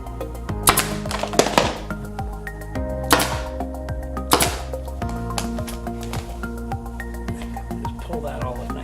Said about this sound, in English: a spring-powered one. And so what I've been doing, I'm going to tack that down